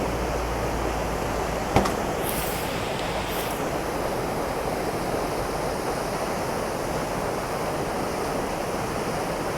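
Falling Springs waterfall in Virginia roars as a steady, dense broadband rush, with one sharp brief click early on and no voices.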